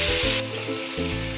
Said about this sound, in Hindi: इसके अंदर हम जो मैंने पेस्ट बनाकर रखा था लहसुन, मिर्चा, अदरक और हरी धनिया का, इसे डालेंगे और इसे हम 1 से 2 मिनट तक भून लेंगे